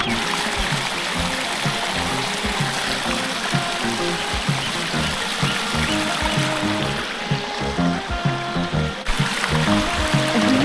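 Talakona waterfall pours in a constant dense rush of falling water, heard close and loud without pause throughout.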